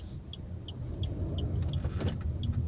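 A manual car pulls away in first gear, its low engine rumble building steadily while a regular indicator ticks quietly throughout.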